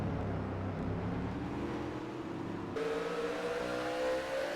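Stock car engine running on not all of its cylinders in a racing video game at Martinsville, a steady rough droning note with a pitch shift partway through, continuous and fairly loud with no talk.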